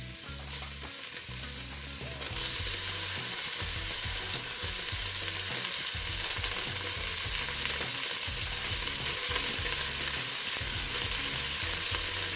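Seasoned beef searing in a pot gives a dense, loud, continuous sizzle that grows fuller after the first couple of seconds, with occasional stirring and shifting noises close by.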